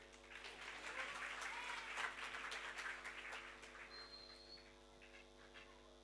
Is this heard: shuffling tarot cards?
no